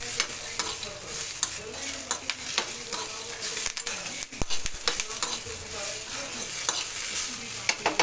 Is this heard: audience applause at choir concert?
no